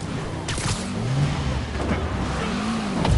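A car engine in a Spider-Man PS4 police chase revs loudly and continuously, its pitch rising and falling in swooping sweeps as the vehicle accelerates, close and unbroken with no voices over it.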